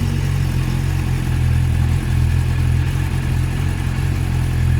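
A Suzuki GSX-R 600 SRAD motorcycle with its standard exhaust can idles steadily close by, a continuous low engine rumble with light mechanical clatter, with no voices.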